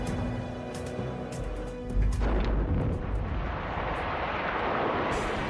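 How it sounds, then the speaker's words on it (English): A large open-pit copper mine blast loosening ore erupts in a heavy, rumbling boom that swells and then rolls on as a broad roar of falling rock, loud and without speech. "To all units, this is a 1-minute blast warning."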